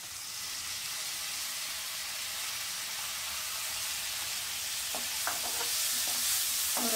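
Toor dal sizzles on a low flame in a pan, a steady close frying hiss, with a few soft scraping stir strokes toward the end and no talking.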